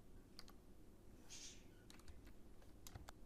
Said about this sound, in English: Let me pass the link. Now, let's set the text type.